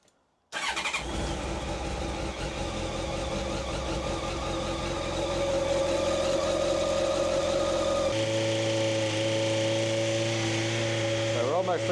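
A Honda Blackbird motorcycle engine runs steadily at raised RPM after starting, a continuous loud drone whose pitch climbs gradually and then holds high with a bright whine.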